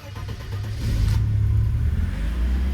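A Mercedes 190E 2.6 left unstarted for a week runs close by, its engine rumbling steadily and rising slightly in loudness as it settles into a running idle.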